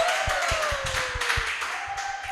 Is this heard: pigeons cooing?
no